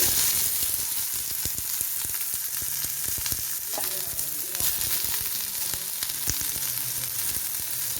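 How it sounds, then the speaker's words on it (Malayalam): Dense, continuous crackling and popping of seeds spluttering in hot oil, with sharp sporadic pops over a steady sizzle throughout. "കടുക് പൊട്ടി"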